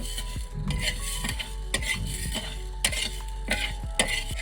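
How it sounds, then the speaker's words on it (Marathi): Coriander seeds dry roasted in a pan for a ground masala for mutton. Repeated close metallic scrapes and clinks of stirring sound over a steady low hum. "धन भाजायला टाकलेत"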